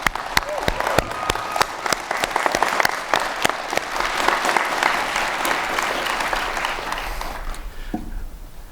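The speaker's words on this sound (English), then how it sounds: "Could we give Oni a round of applause?" Audience applause at the Juniata College 2021 commencement, with sharp individual claps standing out near the microphone over a broad crowd clapping that swells, then drops away at the close.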